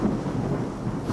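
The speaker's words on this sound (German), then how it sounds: "hier gewittert es gerade" Rumbling thunder with steady rain in the video game STALKER: Shadow of Chernobyl, a continuous low roll that stays loud throughout with no voices over it.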